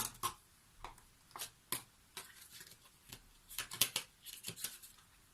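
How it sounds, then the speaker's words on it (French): Lenormand cards pulled from their box and handled, making a series of quick crisp papery clicks, slides and snaps, soft and close, with no talk. "On a juste le temps d'attraper les cartes qui étaient encore dans leur boîtier."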